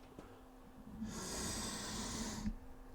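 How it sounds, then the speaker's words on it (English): A single long, close breath drawn in through one nostril, a steady airy hiss lasting about a second and a half that begins and ends softly. "you're going to firstly breathe through the left side of your nose like this"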